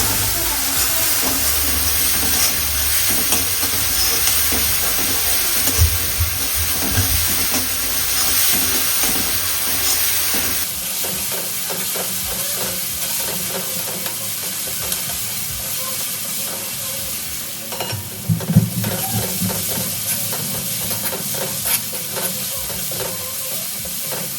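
Spiced potato filling for vada pav is stirred and fried in a hot pan, producing a continuous sizzle and hiss with scraping stir strokes. The sound is loud and close, and no voices are heard.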